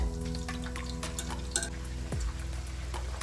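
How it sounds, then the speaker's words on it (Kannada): Chicken lollipops deep frying in hot oil for an Indo-Chinese dish, a steady crackling bubble with a few faint clinks of utensils, heard alone without talk. "ಟೆನ್ to 15 ಮಿನಿಟ್ಸ್ ಇದನ್ನೆಲ್ಲ ಡೀಪ್ ಫ್ರೈ ಮಾಡ್ಕೋಬೇಕಾಗತ್ತೆ"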